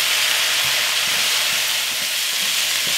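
Sliced zucchini sizzles steadily in a hot hibachi-style pan, a constant close frying hiss with faint crackles that holds evenly throughout.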